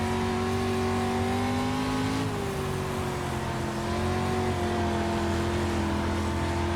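Race car lapping a track in a racing video game, its engine holding a loud, steady drone with a pitch dip and recovery as the car shifts and reaccelerates, a continuous close engine tone filling the whole stretch.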